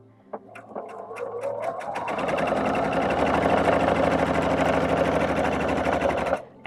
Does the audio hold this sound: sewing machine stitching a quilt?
yes